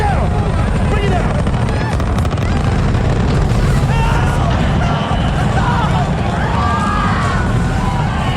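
Spaceship thrusters keep firing after a crash, the ship lodged into another vessel, in a designed effect for Alien: Earth: a loud, dense, continuous roar with rumbling lows and scattered high metallic whines throughout.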